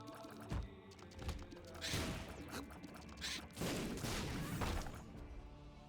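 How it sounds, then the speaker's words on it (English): Bombs burst like fireworks in The Binding of Isaac Repentance+, a quick series of crackling, thumping blasts at close range layered over busy game sound. "Apparently bombs are fireworks now."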